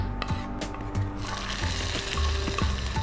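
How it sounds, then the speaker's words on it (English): Hot oil sizzling and crackling steadily as a spice tempering hits Mysore rasam, with a few clinks of a pan and spoon. "I love that sizzle."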